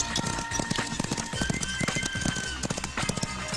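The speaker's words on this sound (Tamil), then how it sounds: "என்னடா ஜோடியை கூட்டு போன குதிரை எம்டியா வருது?" Horse hooves clip-clop in a quick, uneven rhythm of sharp knocks over a busy, noisy background, with faint voices mixed in.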